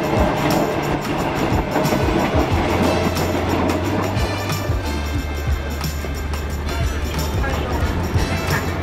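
A train in Bangkok rumbles and clatters close by in a loud, steady wash of rail noise with a low engine drone, while voices and station bustle mix in.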